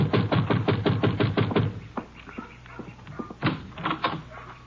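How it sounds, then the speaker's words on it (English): Rapid knuckle raps on a wooden door, a quick run of about eight knocks followed by a few slower, louder knocks after a pause. "You better knock again."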